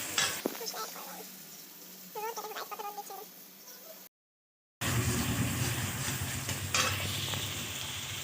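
Spice masala fries with onion and tomato in a pan, a loud sizzle that follows a brief cut to silence. Before the cut there are clucking chickens and background sounds.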